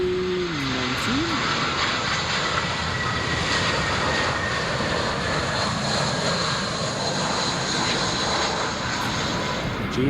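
An Airbus A319 airliner at Heathrow Airport, its engines giving a loud, continuous roar that stays steady throughout, with a brief voice at the start.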